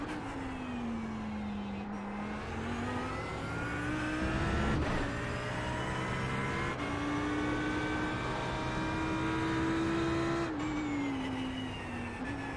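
Audi R8 LMS GT3 race car engine in the iRacing simulation at Sonoma, droning steadily and rising and falling in pitch as it accelerates and lifts for braking, loud and continuous with no talk.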